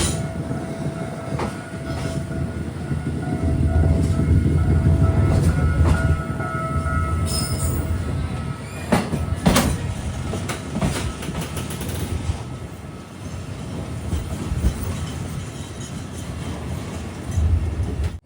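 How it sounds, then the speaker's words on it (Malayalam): A KTM Intercity train runs on the Tumpat to Gemas jungle railway in Malaysia, its wheels rumbling and clacking over the rails up close, with sharp metallic clanks and squeals and a rising, falling roar as it travels. "തുമ്പാറ്റുന്ന കറക്റ്റ് 7:20 തന്നെ നമ്മുടെ ട്രെയിൻ എടുത്തു."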